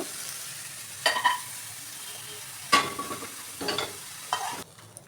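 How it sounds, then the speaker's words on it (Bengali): Mixed vegetables fry lightly in a wok under a faint, soft sizzle, punctuated by four bursts of spatula stirring and scraping against the metal. "সব সবজি একটু হালকা করে ভাজা ভাজা মতন করে নিলাম।"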